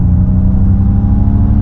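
A 2023 Ford Mustang Mach-E GT electric car accelerating gives a steady, loud low whir and hum inside the cabin, continuous without breaks.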